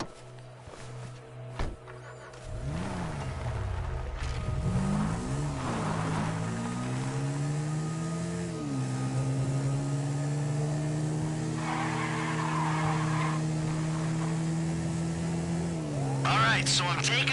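Car driving in GTA V, a steady engine drone with rising and falling pitch sweeps as it accelerates and shifts, brief tire squeals near the start, continuous and fairly close under game background.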